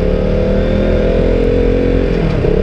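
KTM RC 200 motorcycle held in first gear and accelerating gently, a close, loud, steady engine drone with no voices.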